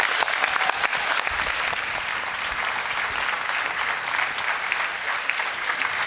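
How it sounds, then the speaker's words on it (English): A round of applause from the audience at a closing session of a program's projects announcement, steady thick clapping from a large room, even and sustained for several seconds with no speech over it. "Please join me in a round of applause."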